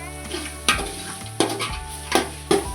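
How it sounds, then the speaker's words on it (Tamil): Onions with ginger garlic paste frying in a pan for a Tamil-style brinji, a steady close sizzle broken by four sharp scrapes of a spoon stirring. "இப்போ இஞ்சி பூண்டு பேஸ்ட்டு போட்டுருக்கேன். நல்லா வதங்கணும்."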